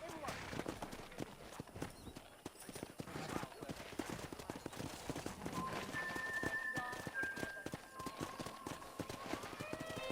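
Horses gallop with steady, rapid clip-clop hoofbeats and an occasional whinny in Red Dead Redemption during a ranch herding ride, heard close up at moderate volume while voices talk over them.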